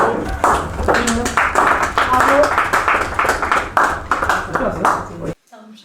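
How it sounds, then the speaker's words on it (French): Film crew clapping on set for the final shot of a shoot, a steady run of hand claps from a small group, close and lively, with voices talking over it before it cuts off abruptly. "on peut l'applaudir"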